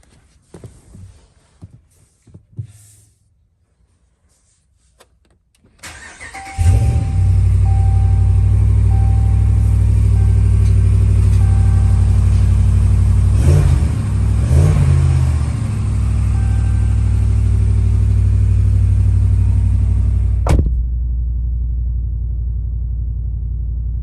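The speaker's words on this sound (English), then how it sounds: "cold start." A HEMI 5.7 V8 fitted with a K&N air filter cranks after a few quiet handling noises, then catches and settles into a loud, deep, steady idle with brief revs partway through, heard up close with no talk.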